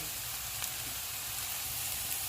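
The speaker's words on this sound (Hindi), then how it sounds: "2 मिनट के बाद शिमला मिर्च को डाल देंगे और शिमला मिर्च को हम 3 मिनट तक पकाएंगे।" Capsicum frying in a pan with garlic, giving a steady close sizzle and crackle with no voices over it.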